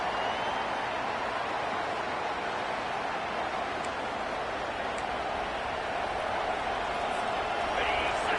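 A crowd at a football game roars steadily as the home defense tries to keep the opponent pinned deep in its own end, a dense continuous wash of noise with no breaks, with talking mixed in.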